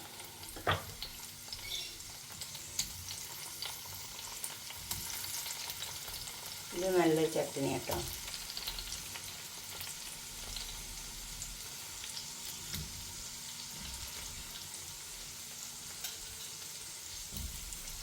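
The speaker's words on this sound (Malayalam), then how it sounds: "മുളകൊന്ന് മൊരിയിട്ട് മുളകും സവാളയൊക്കെ ചെറിയ ഉള്ളിയൊക്കെ ഒന്ന് മൊരിഞ്ഞ് വരണം." Chilies, onions, shallots and tomatoes frying in hot oil for tomato chutney, a steady close sizzle with occasional stirring scrapes, and a brief spoken remark partway through.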